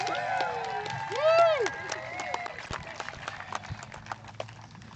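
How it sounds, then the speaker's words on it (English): A crowd at Thunder Hill Speedway victory lane during the Harvest Hustle race cheers and whoops, with shrill rising and falling whistle-like tones early on and scattered claps over steady mid-distance crowd noise. "we want to make sure that we get a good sound of the crowd giving you woohoo!"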